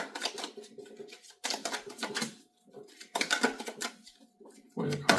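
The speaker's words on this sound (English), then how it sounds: "I'll give it one more shuffle." A deck of tarot cards being shuffled by hand, giving several bursts of close, crisp riffling and flicking separated by short pauses.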